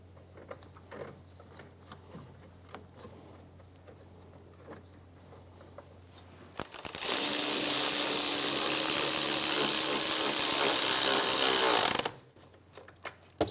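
A power tool runs bolts into a rear wheel hub bracket on an Infiniti G35. After some quiet handling clinks, it gives one steady, loud, whirring burst of about five seconds that stops abruptly. No one speaks.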